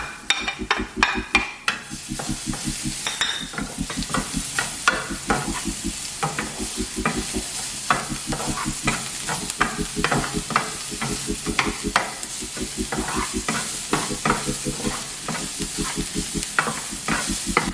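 Garlic sizzles in sesame oil in a saucepan for Korean fried chicken sauce, a steady close frying hiss punctuated by rapid rhythmic scrapes and taps of a utensil stirring against the pan.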